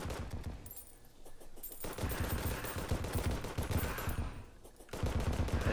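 Rapid bursts of explosive-ammo gunfire in Terraria, a dense rattling barrage of shots with short pauses between volleys, loud and close.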